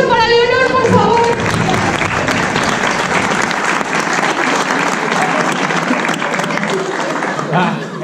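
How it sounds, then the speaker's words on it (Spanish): An outdoor crowd on a theatrical street tour in Mojados, Valladolid applauds a performer, with sustained, loud group clapping after a voice speaks briefly at the start. "Hay un aplauso para Leonor, por favor."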